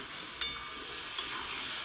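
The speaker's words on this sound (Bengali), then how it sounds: "ভাজা আলুটাকে দিয়ে ভালো করে নেড়ে চেড়ে আমি একটু কষিয়ে নেব" Fried potatoes sizzle in oil while a spatula scrapes and stirs a few times, close and fairly quiet, with no talking.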